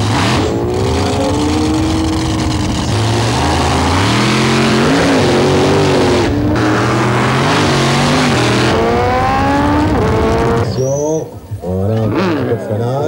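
A tuned car at a GTI tuning show roars loudly with rising and falling engine revs and heavy braking, close and continuous, with crowd noise and voices mixed in.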